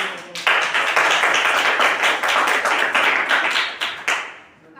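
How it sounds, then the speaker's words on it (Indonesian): An audience applauds at the end of a presentation, a dense burst of clapping that holds steady for about four seconds and then quickly thins out and fades. "Ya, beri tepuk tangan."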